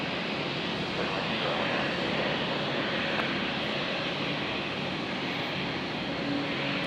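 Beechcraft King Air twin turboprop landing at Brisbane Airport, a steady, faint, distant engine roar with broadband rushing that holds throughout.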